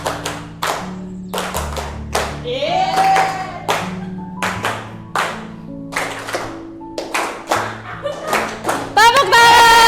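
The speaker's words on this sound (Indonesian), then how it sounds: "Tepuk tangan." Classroom group clapping in short, separate bursts, some rhythmic, loud and close, with voices and a squeal breaking in between.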